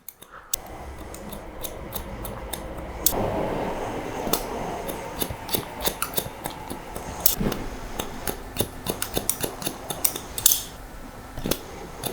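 Scissors point cutting hair while finishing a textured wispy fringe haircut, giving dense rapid snipping clicks across the whole stretch, close and fairly loud, with a few sharper isolated snips standing out.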